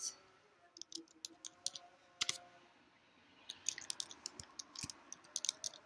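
Keys tapped on a computer keyboard while entering a Git command, two bursts of quick irregular clicks separated by a pause, close but quiet, with no talk.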